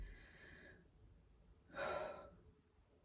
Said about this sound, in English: should we take a deep breath in?